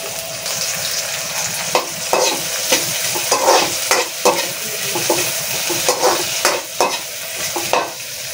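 Onion and lemongrass frying in a pan for a crab sarciado, a loud, continuous sizzle broken by frequent stirring scrapes and utensil knocks, close up with no talking.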